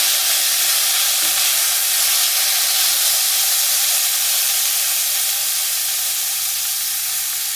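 Boiled raw papaya pieces fry in a pan of tempering for a papaya curry, giving a steady, loud sizzle and hiss that runs unbroken with no talking.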